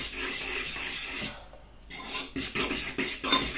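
Scraping and rubbing of a utensil stirring powder into pasta in a bowl, steady and close, with a brief quieter pause before the mixing resumes.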